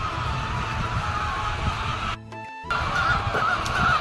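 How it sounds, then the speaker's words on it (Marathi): A large shed full of egg-laying hens, with a dense, continuous clucking and squawking chorus heard close up, briefly cutting out for a moment before resuming. "कोंबड्या आहेत"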